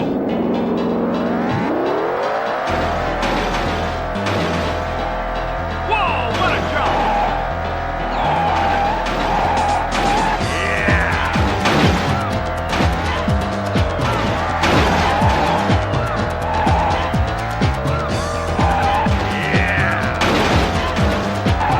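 Monster truck engines roar and rev loudly in Psygnosis's Monster Trucks game, with tyres skidding and squealing throughout, and voices talking over the racket.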